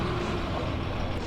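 A Hot Wheels diecast Unimog rolls down a stone road track, giving a continuous gritty rumble and rattle with no pause, moderately quiet and close.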